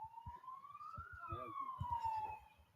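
Police car and ambulance sirens pass along a busy road near a cricket ground: a loud wailing tone rises then falls, over traffic and a commentator's voice.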